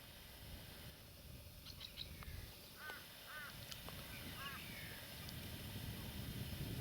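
Several short bird calls ring out at a distance across a big river at the Carson River crossing in the Kimberley, over a steady low outdoor rumble, with faint chirps scattered between them.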